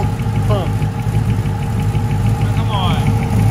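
A turbocharged car engine idles after a carburetor adjustment, with a loud, close, steady rumble and slight uneven knocking that holds throughout.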